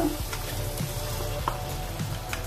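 Prawns sizzling in hot oil for a home-style prawn biryani, a steady soft crackle and hiss with a few faint clicks, fairly quiet and with no talking.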